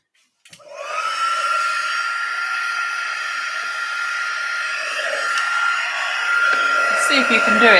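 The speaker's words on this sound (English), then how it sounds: "And then we'll heat that with the heat tool." A craft heat tool blows steadily to melt gold embossing powder on a Christmas card, a loud continuous whooshing hiss that starts abruptly and holds for several seconds, rising slightly near the end.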